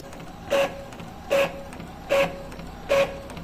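An Epson printer runs a head-cleaning cycle, giving four evenly spaced mechanical whirring bursts with a steady tonal hum, each lasting about a quarter second, separated by quieter pauses. The bursts are close and moderately loud.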